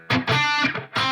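Electric guitar through an amp with a little drive and no reverb, a short dry phrase of distorted chords ringing loud for about a second with brief gaps between strikes.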